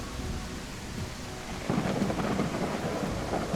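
Thunderstorm with steady rain in the video game The Isle Evrima, a low rumble of thunder swelling partway through over a constant hiss of falling rain.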